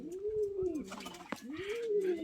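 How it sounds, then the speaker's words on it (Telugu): Pigeons at a zoo coo in two low, rolling calls separated by a brief pause, fairly close, with faint background noise and no talking. "దీనికి పావురాలు."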